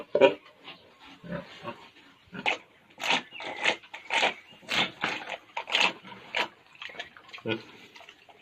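Pigs grunt and squeal in repeated short bursts while being fed fresh hay, close and fairly loud, with brief pauses between the calls.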